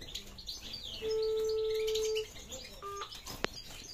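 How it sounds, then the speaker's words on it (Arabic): Caged birds kept as breeding pairs chirp and tweet nearby, with one long steady whistled note in the middle and several short sharp calls around it, with no talking. "طير فيه الكلام"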